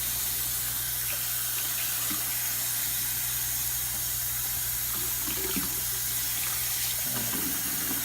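A pan being rinsed under a running kitchen tap, a steady loud rush of water with occasional splashes and knocks as the pan moves in the stream, no talk.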